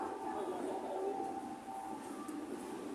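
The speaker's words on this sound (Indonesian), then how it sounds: "Kereta menuju Bundaran HI Bandega berangkat dari peron 4." Jakarta MRT train at Blok M station, a steady rumbling hum with a faint whine, heard close on the platform with a public-address announcement voice over it.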